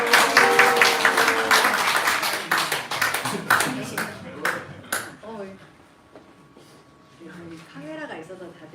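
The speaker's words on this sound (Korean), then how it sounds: "너무 쑥스러워 하시는 것 같아서 격려의 박수를" Church congregation at a Sunday worship service breaking into encouraging applause, brisk and dense at first, then thinning into scattered claps and fading out as a voice speaks over the tail.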